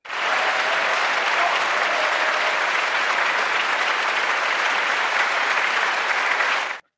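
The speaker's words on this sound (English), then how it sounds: "I was putting in the claps there." Canned applause sound effect dropped into a comedy quiz podcast: even, full crowd clapping that starts and cuts off abruptly after about seven seconds.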